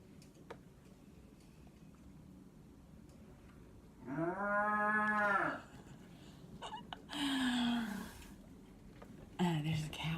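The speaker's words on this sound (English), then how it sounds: "There's a cow in my house. Did you hear that cow?" A cow moos indoors in two long, loud, tonal calls a couple of seconds apart, with a shorter third low call near the end, over a quiet room background.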